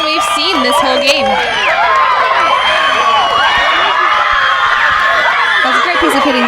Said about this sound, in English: And the CV crowd is very happy with that.